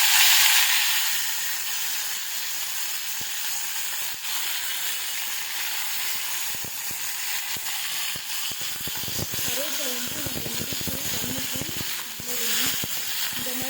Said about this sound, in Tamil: இப்போ நம்ம எடுத்து வச்சுருக்க கருவேப்பிலையை இதுக்குள்ளே சேர்த்துடலாம்